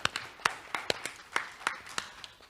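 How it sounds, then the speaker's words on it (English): Conference attendees clap in a small, sparse round, a dozen or so crisp individual claps in loose rhythm, fairly close and moderately quiet. "give yourselves a clap"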